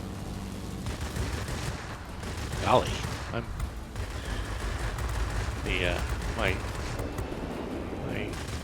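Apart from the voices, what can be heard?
aircraft cannon fire in the video game World of Warplanes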